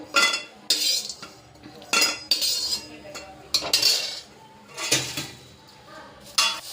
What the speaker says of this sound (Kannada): ಕರಿಬೇವು ಸೊಪ್ಪು ಹುರ್ಕೊತಾ ಇದ್ದೀನಿ